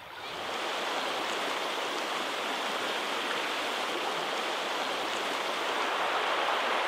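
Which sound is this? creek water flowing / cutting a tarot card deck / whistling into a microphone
creek water flowing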